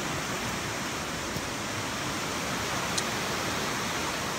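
A river flowing near a campsite by the Potomac River, a steady broadband rush of moving water, close and continuous with no voices.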